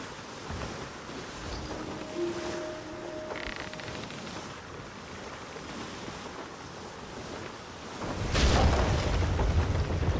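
Open ocean in the video game Sea of Thieves: a steady wash of waves and wind around a sailing ship, with a brief creaking tone, then a louder surge of crashing water near the end.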